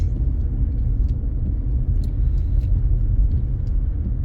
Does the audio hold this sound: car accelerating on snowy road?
yes